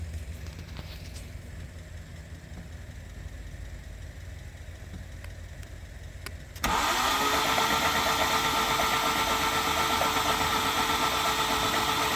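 A low engine hum idles briefly, then a wet, hydro-locked turbocharged Civic engine is cranked and turns over loudly from about the midpoint, a steady mechanical churn continuing to the end.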